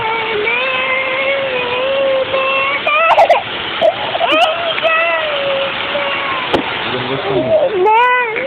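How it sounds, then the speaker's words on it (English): Rainwater floods and splashes near a house in a steady broadband rush that runs throughout, loud and close, with a dog whimpering and voices talking over it at moments. "look at all that water. It's coming up to our house."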